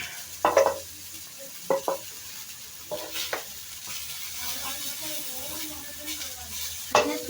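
Potatoes frying in a pan are stirred in short scraping bursts over a quiet sizzle, a few separate strokes spaced across the stretch, with a low voice murmuring faintly in the background.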